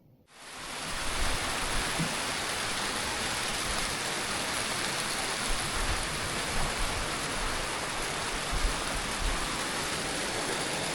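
Heavy rain pours steadily during a wild storm, a dense, even hiss of water that swells in within the first second and then holds constant and loud with no voices.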